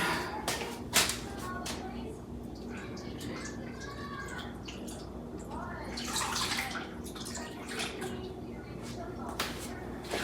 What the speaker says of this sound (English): I'm gonna pour it over my ribs